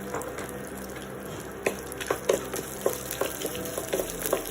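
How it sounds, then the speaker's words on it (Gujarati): Curry leaves and chopped cashew pieces sizzle softly in hot oil for a rava idli tempering, a steady low fry with a few sharp crackles and pops in the second half. "હવે એની અંદર લીમડાના પાન ઉમેરી લઈશું, જે મેં બારીક સુધારી લીધા છે."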